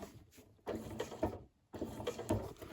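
A domestic sewing machine stitches an appliqué of fabric scraps and denim in two short mechanical bursts separated by a brief pause, quiet and close.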